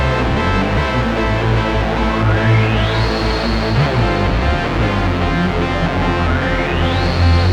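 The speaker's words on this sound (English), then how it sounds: "Have you ever heard a guitar sound like this?" Electric guitar played through a Roland guitar synthesizer, a dense, continuous wash of tones with rising pitch sweeps gliding up and holding, loud and sustained throughout with no talking.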